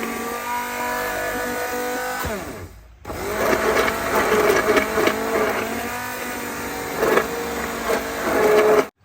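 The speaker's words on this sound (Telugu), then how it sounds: "పాలకూర మంచిగా దీన్ని బ్లెండ్ చేసేసుకుందామండి హ్యాండ్ బ్లెండర్తో" A hand blender whirs as it purees cooked spinach for palak paneer, a short burst that stops, then a longer loud continuous motor whine with shifting pitch as the load changes, close to the microphone.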